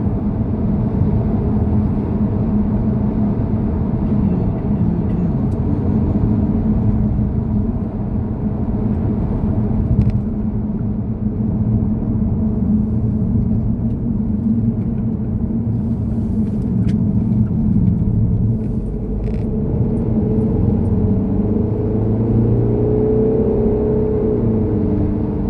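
A car driving along a country road between Binbrook and Immingham, with a steady engine drone and road rumble throughout and a rising rev toward the end as it takes a bend.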